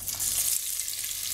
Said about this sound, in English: I want to pour in my oil, and I'm going to go ahead and I'm going to add in my onions